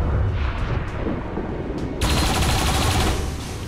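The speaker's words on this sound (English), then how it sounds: "The turrets get to fire twice?" Automated turrets in XCOM 2 open fire: a dense, continuous burst of game gunfire and blasts that stays loud throughout and thickens partway through, with no talking.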